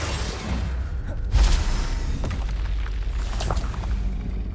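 A Confringo fire-blast spell bursts in Hogwarts Legacy, a loud deep boom with a sharp thump landing mid-clip, followed by whooshing and further rumbling impacts in a busy battle.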